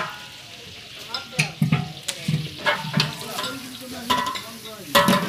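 Beef curry cooking in a large pot for a big event, with sizzling under repeated scraping and clanking stirs from a cooking utensil, several sharp strikes against the metal pot.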